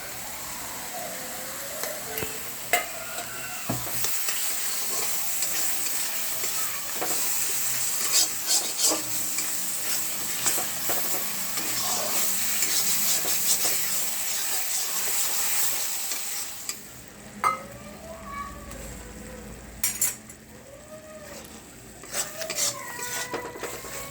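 Chicken and chickpea masala sizzles in a pan while being stirred, a steady frying hiss broken by repeated scraping and clinks of a utensil against the pan, close and continuous throughout.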